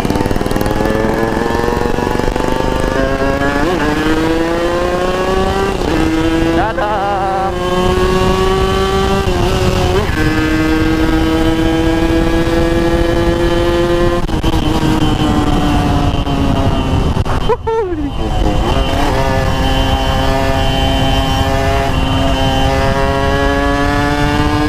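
A 500cc motorcycle engine running rich revs repeatedly, climbing and dropping in pitch with brief throttle cuts, loud and close with no talk over it.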